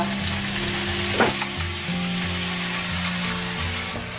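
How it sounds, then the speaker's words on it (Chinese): Steady crackling sizzle of garlic and chili frying in hot oil over low heat, close and continuous, with a brief scrape of stirring partway through. "倒入油，然后先把这个蒜头给它放上去爆香"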